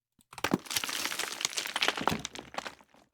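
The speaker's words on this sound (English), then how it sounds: "So it's just like a debris sound," A dense clatter of tumbling rocks and debris, crunching and cracking continuously for a few seconds, close and fairly loud before trailing off.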